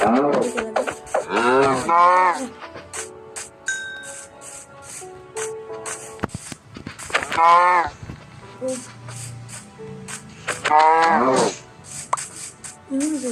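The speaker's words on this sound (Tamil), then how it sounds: "இங்கே ஒரு 3 மாடுகுது." Minecraft cows mooing in several long, harmonic calls spread through the stretch, standing out against game background sounds and clicks, with no talking.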